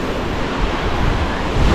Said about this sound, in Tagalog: High tide ngayon guys, kaya medyo malakas yung alon.